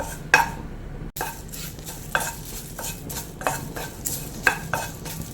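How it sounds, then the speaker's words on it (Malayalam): Curry leaves crackle and sizzle in hot oil while a spoon stirs and scrapes the pan in irregular strokes, close and fairly loud. "ഇല ഒന്ന് ചെറുതായിട്ടൊന്ന് ഫ്രൈ ചെയ്യാൻ മതി"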